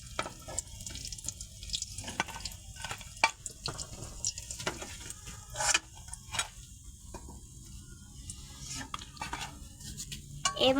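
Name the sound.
eggplant fritters (beguni) frying in oil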